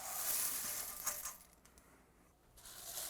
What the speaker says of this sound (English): We're now going to go in with 3 cups of Rice Krispies. And then 4 cups of Golden Graham cereal